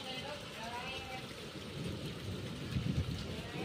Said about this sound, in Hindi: बारिश कम ही पड़ रही है लेकिन आवाज़ बहुत ज़्यादा आ रही